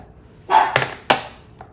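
A small pug gives a few short, close barks in quick succession, with a faint one trailing after.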